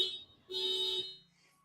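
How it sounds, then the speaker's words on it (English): A car alarm goes off outside, blaring a loud electronic tone with a shrill high pitch and a lower buzzing layer. It holds steady for about half a second, then cuts off and leaves only a faint background hum. "Someone's car alarm."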